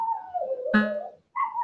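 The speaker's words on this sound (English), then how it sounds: "I can hear a dog or a baby crying in the background" A dog whimpers and howls faintly in the background, a wavering cry that rises and falls over about a second and a half, with a brief gap before it resumes.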